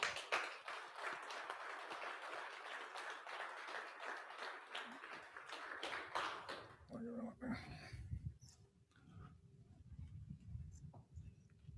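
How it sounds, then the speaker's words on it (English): A room full of people clapping steadily for several seconds at an annual general meeting and economic summit, then the applause fades out and a voice begins talking. "I'd just like to end with a quick round of applause"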